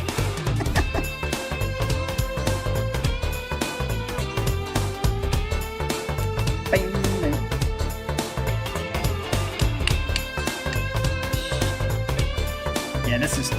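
An instrumental guitar track, a 90s piece with an 80s feel, plays steadily with sustained lead guitar lines over a driving drum and bass groove.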